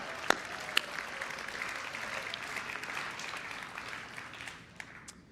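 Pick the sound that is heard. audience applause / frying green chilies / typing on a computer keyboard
audience applause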